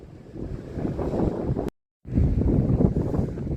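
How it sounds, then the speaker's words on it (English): Wind blustering across an exposed, abandoned football ground, heavy low rumbling gusts buffeting the microphone, cut by a brief silent gap midway before the roar resumes. "I don't see the wind as spoiling this video"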